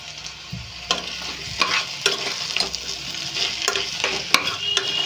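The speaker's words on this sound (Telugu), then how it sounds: "ఇలా బంగాళదుంప వేసి అయితే ఫ్రై చేస్తున్నాను" Dried fish and potato fry in a pan with a steady sizzle, while a utensil scrapes and stirs in repeated sharp strokes close by.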